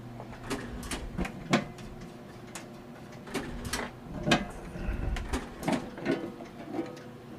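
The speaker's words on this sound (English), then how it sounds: "And each time it hits the contact, it advances the cam one position." Clicks and clacks from a traffic signal controller's cam mechanism as it steps ahead one position at a time, sounding at irregular intervals, close and fairly quiet, with a faint hum underneath.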